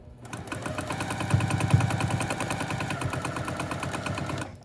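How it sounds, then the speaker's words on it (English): A sewing machine runs in one continuous burst, stitching foundation paper-pieced flying geese quilt blocks with a rapid, even mechanical rattle that starts and stops cleanly, close up and with no talking. "And now we're going to sew along the line of A5 and this group."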